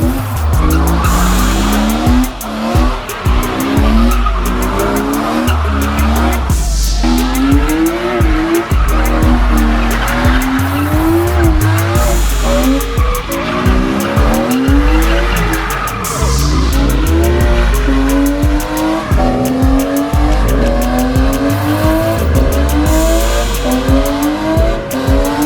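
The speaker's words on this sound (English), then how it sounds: "We're going to check out some drifting first" Tires squeal loudly and continuously as a drifting Toyota Supra's engine revs and roars, with screeching rising and falling over a steady engine drone.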